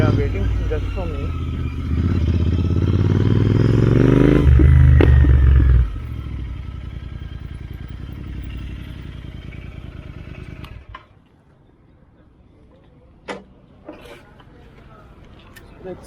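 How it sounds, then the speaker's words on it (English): A group of motorbikes gathered at a street roadside for a Sunday morning ride, with a loud, close engine rumble and rising rev for several seconds, then softer idling and distant traffic as someone talks over it. "So many bikes over here."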